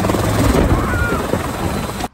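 A CH 77 Ranabot personal helicopter roars close by, its dense rotor thrum loud and steady throughout before cutting off abruptly at the end.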